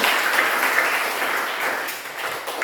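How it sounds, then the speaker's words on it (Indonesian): A classroom of students applauds a classmate during a lesson, a dense, steady round of clapping that is loud and continuous throughout. "silakan tepuk tangan dulu buat teman."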